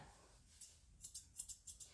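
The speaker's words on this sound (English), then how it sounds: "And I'm gonna use my curves first." Curved grooming scissors snipping through a dog's coat, a run of about six quick crisp metallic snips close by and fairly quiet, with no talking.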